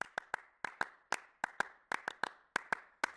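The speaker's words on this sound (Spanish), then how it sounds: "In 1972, I composed a piece called Clapping Music, and all it needs is your two hands" Two performers clap Clapping Music: crisp, dry hand claps in a tight, interlocking rhythm, with paired and single claps alternating in quick patterns against a silent background.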